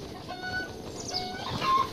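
A chicken in a Zelda video game clucks in a few short, moderately quiet bursts over soft game background sound, with no talking.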